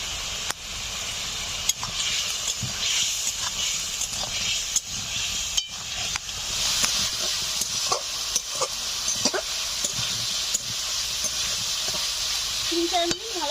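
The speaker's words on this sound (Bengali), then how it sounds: "তিন চার মিনিট ভালো করে কষে নিয়েছি।" Ground spices with salt, chili, cumin and turmeric fry and are stirred in a pan for a rita fish curry with potato, a steady hissing sizzle punctuated by periodic spatula clicks and scrapes.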